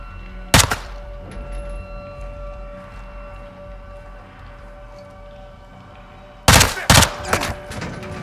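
Gunfire in the video game Call of Duty Modern Warfare 2 (2022): one sharp, loud burst early on, a stretch of quiet ambience with faint background noise, then a second cluster of rapid shots near the end.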